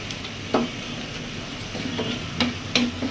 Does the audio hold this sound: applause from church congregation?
no